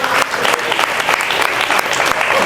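Loud, dense audience applause at a Marathi stage show for women contestants, steady clapping from a large crowd filling the whole stretch without a break.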